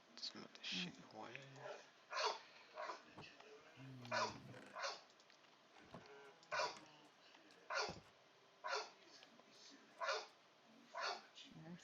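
A dog barks repeatedly in a living room, with short irregular bursts of barks spaced every second or so, alongside occasional low growls and whimpers, fairly close.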